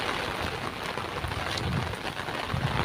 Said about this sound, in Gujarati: તે વરસાદ હાસી જ આવ્યો ફાસ્ટ